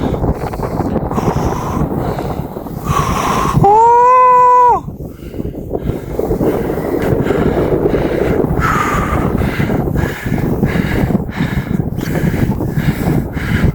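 Strong gusting wind on a snowy Carpathian mountain roars and buffets the microphone throughout, with a brief loud tonal whine partway through.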